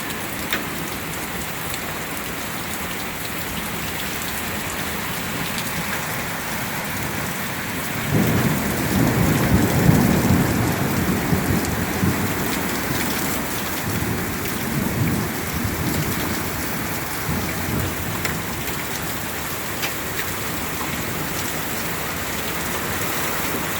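Summer hailstorm in central Florida: steady heavy rain and hail drumming nearby, with rolling thunder swelling loudly for several seconds midway before easing back into the constant downpour.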